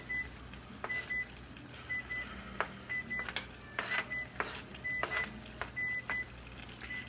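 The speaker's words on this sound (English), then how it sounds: "I'm going to turn the timer on for 5 more minutes" An electronic kitchen timer beeps repeatedly as it is set while paella with peppers cooks, short bright pips in quick pairs amid faint clicks and kitchen noise, fairly quiet and close, with no talk.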